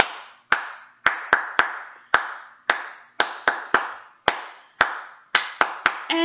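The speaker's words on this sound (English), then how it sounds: "clap five times" Hands clap sharply and close in a rhythmic sing-along pattern for infants through kindergarten, more than a dozen crisp claps in uneven groups with short pauses between, no voices over them.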